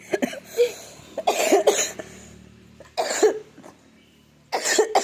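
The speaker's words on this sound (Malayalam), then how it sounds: "ചുമയാണ്." A girl coughs in several loud, close bursts separated by short quiet gaps, with no talking.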